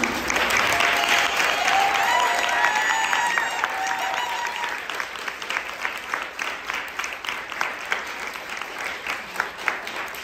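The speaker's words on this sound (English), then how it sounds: "I will receive your little bit of applause" Audience applause fills the room at close range, a dense steady clatter of clapping that continues for about ten seconds, with some tonal music or voices underneath early on before thinning slightly toward the end.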